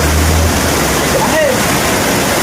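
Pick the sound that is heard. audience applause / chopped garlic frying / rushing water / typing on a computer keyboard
rushing water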